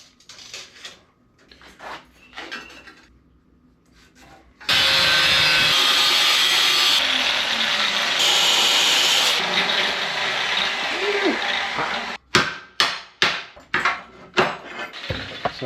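Steel piece for a TIG welding cart being cut in a small shop: a loud, steady cutting roar runs for about seven seconds, followed by a rapid series of sharp metallic knocks and clanks close by.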